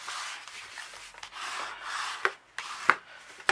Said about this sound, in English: make sure it's lined up and burnish it